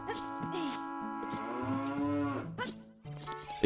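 Cows mooing in the video game The Legend of Zelda: Ocarina of Time: a long, loud, close low moo with rising and falling pitch, cut by short game sound effects and followed by a brief second call.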